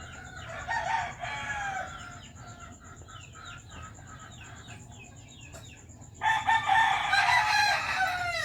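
Chickens on a farm where chicks are raised, with a rooster crowing and hens clucking throughout, loud and close at the start, then softer calls, then a burst of louder crowing near the end, with no talking.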